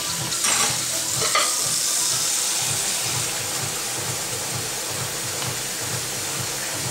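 Hot chicken stir-frying in a pan gives a loud, continuous sizzle and hiss, with a few scrapes of stirring near the start and a steady low rhythmic pulse underneath.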